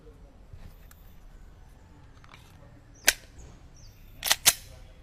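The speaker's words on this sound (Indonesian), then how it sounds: "Kita coba tembak 2 target itu pakai 2 peluru." Two sharp gunshots at targets crack out close and loud, one alone and then two more bursts in quick succession near the end, over a quiet outdoor background with faint scattered clicks.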